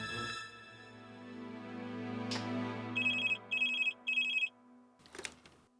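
A telephone rings in an indoor drama scene, three short bright electronic ring bursts in steady succession over a soft sustained musical background, fairly close and clear.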